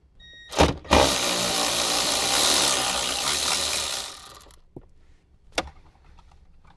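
A ratchet takes out a 10mm bolt from the trim of a Toyota 4Runner, giving one sustained burst of clicking and turning with a few sharp knocks before and after. It sounds close and fairly loud, with no talking.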